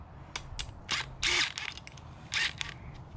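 A hand ratchet works a bolt loose on a junkyard LS V8 engine during a teardown, giving short bursts of clicking and one rattling spell of metal clicks, fairly close and quiet against a low background hum.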